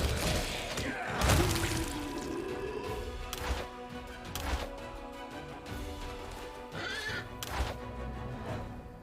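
A horse neighs in Pathfinder: Wrath of the Righteous, a loud whinny standing out near the start against a busy bed of game effects, clatter and music, with further short sharp hits scattered through.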